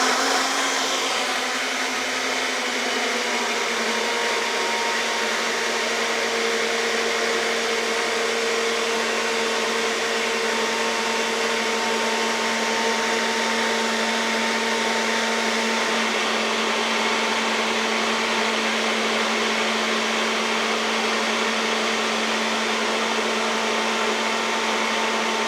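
A TENKER 850W personal blender runs steadily on fresh fruit for a smoothie, a loud continuous motor whine with a constant tone and no pulsing from start to finish.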